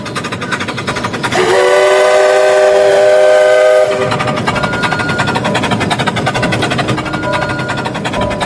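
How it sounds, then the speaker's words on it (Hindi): A steam train's whistle blows steadily for a few seconds over loud rumbling and clattering train noise that continues after the whistle stops. "एक पुरानी सी आवाज़ आई, पुराने इंजन की आवाज़"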